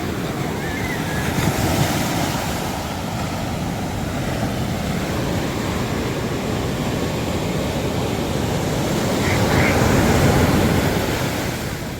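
Ocean waves break and wash up on a San Diego beach in a steady, loud roar of surf, with wind buffeting the microphone throughout.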